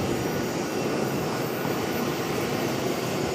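A Piedmont Airlines ERJ regional jet, 21 years old, arriving at an airport gives off a steady, dense engine roar. The sound is loud and unbroken, with no voices over it.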